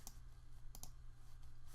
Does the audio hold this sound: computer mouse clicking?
yes